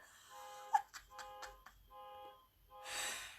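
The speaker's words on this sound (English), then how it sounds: "that's a nice Zen car alarm in the background" Car alarm sounding in the background indoors, a repeating electronic tonal pattern with several pulsed bursts, followed by a louder broadband noise near the end.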